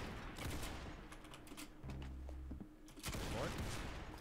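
Gunfire from a high-zoom weapon in a one-on-one video game match: a few sharp shots and bursts stand out over a steady game soundscape, with talk heard now and then.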